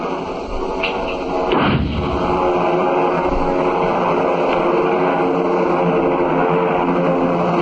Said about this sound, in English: Murray, throw me that flare gun.